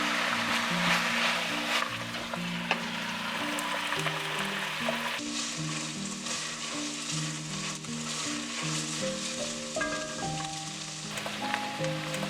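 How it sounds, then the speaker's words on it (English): Beef browning in a cast iron Dutch oven for chili gives a steady, close, even sizzle with occasional stirring, running unbroken throughout with a soft stepped melody underneath. "This cast iron Dutch oven retains heat beautifully, ensuring even cooking for perfectly brown beef every time."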